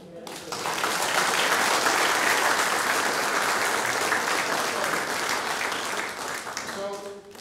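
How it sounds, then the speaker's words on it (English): Audience applause at a morning church gathering, a steady wash of many hands clapping that swells in and holds loud for several seconds before thinning out, with a voice emerging at the very end. "Yeah, a round of applause."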